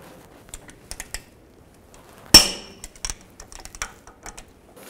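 A torque wrench tightens the caliper bracket bolts on a 2001-2008 Chevy Trailblazer during brake work. Soft ratcheting ticks are followed by one sharp metallic click, then a few lighter clicks nearby.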